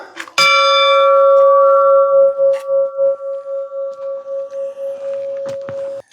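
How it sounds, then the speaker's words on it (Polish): A large bell in Crete is struck once and rings out loud and near, its pure tone holding steady and slowly pulsing for about six seconds before stopping abruptly. "Ja też sobie tutaj zadzwonię tym dzwonem na szczęście."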